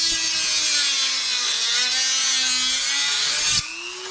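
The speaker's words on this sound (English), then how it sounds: "I'm cutting up to the corner. Cutting up to the corner that's rounded." Power tool cutting through a custom speaker grill for a 1990s Chevy C1500 sport truck, easing around a rounded corner; a loud, steady whining saw runs continuously, then the pitch drops as it eases off at the end, with no talk.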